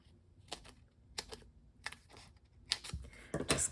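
Scissors snip through sheets of dimensional foam adhesive pieces for a handmade card, a series of short crisp cutting clicks in quick clusters, close and fairly quiet.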